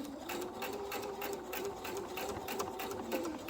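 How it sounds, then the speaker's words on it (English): A sewing machine stitches the seams of mini flags in a fast, steady mechanical whir with a regular rapid needle rhythm. It runs close and continuous, with no talking. "I'm going to do a little back stitch on it just to reinforce"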